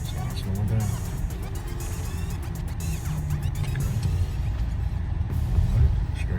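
A car driven by a 13-year-old learner on a road, its engine and tyre rumble steady and close inside the cabin, easing down in speed, with a brief clatter midway.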